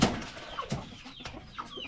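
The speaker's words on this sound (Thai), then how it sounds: "ไก่สามเดือนตัวผู้กับตัวเมียเห็นไหมสามเดือน" Three-month-old chickens, both young roosters and hens, cluck and chirp in short scattered calls, close by and moderately loud, with a few rustles among them.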